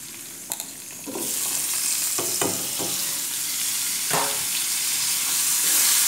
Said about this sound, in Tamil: குடமிளகாய் போட்டு நல்லா வதக்கணும்